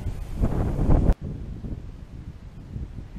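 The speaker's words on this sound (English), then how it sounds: "It's a bit windy, so I hope you can hear me okay." Wind gusts buffet the microphone in a loud rumbling rush that drops off abruptly, leaving a softer, steady outdoor wind noise.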